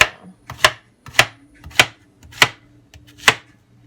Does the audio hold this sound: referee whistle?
no